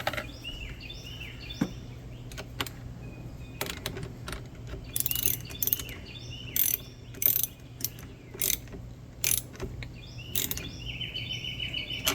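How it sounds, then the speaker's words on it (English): A ratchet clicks in short, quick bursts while tightening a nut on a Kohler engine starter, close and fairly quiet over a low steady hum. "tighten the nut up."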